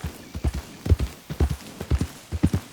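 A horse's hooves clip-clop in the Red Dead Redemption II video game, a steady, close, rhythmic trot of crisp paired hoofbeats with no talking over it.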